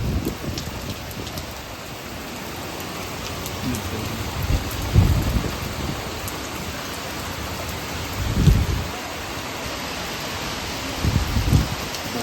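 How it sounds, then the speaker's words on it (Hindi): Heavy rain pours steadily while deep rumbles of thunder roll in several times, close and loud, with no voices. "इतनी तेज बारिश हो रही है कुछ कहने को नहीं"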